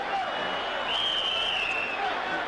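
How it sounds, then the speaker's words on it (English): Applause and crowd noise at a boxing event, a steady wash of clapping and murmuring with a faint whistle-like tone over it. "give yourselves a round of applause."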